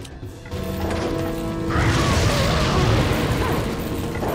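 An incendiary grenade goes off in Resident Evil 4, a loud crashing burst that swells into a sustained roaring rumble of flames, with ambient game tones underneath.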